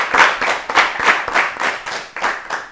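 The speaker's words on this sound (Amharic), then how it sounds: "አጨብጭቡላቸው ለሁላችሁ።" Audience clapping for contestants on a children's television quiz show, a steady run of bright hand claps in a regular rhythm, fairly close and alone without talk.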